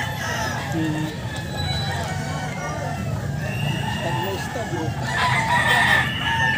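A nine-month-old stag, a young rooster, crows amid other chickens with clucking and background chatter, moderately close and mixed under people talking.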